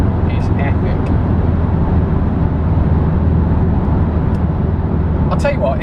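A Porsche Boxster GTS, a salvaged car, roars steadily under full throttle from inside the cabin, a loud sustained engine drone with a person talking over it briefly near the end.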